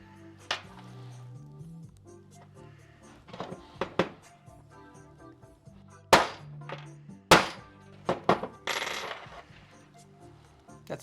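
Sharp hammer whacks rivet a leather belt fob, a few scattered hard knocks with clinks between them. Quieter handling noises fill the gaps.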